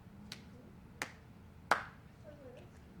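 Three sharp, separate hand claps, spaced about a second apart, one person clapping right hand over left in a quiet room, the last clap loudest, with faint speech-like murmur after.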